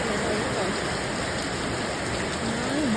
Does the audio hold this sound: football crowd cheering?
no